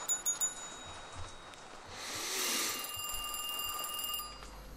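A phone rings inside a haunted food kiosk in a video game. Several quick electronic rings pulse at the start, then a ringing tone holds steady beneath a swelling whoosh of sound.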